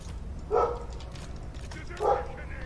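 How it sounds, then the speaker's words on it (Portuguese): A pet dog barks twice indoors, each bark a short, separate burst about a second and a half apart, set against a low room hum. "Deixa eu mutar que meu cachorro tá louco aqui, velho."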